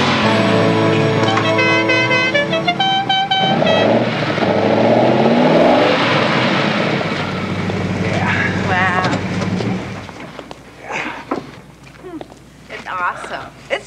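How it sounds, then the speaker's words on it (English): Powerful car motor revving in a garage, from a Dukes of Hazzard episode, loud with several rising engine sweeps before fading under voices talking. "the sound of a powerful motor could be heard coming out of Cruder's"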